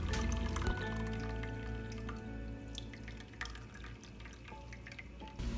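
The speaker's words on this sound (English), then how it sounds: "Drain the water." Water drained off boiled potato wedges into a sink, a steady close pour and splash with some metallic clatter and a few drips near the end.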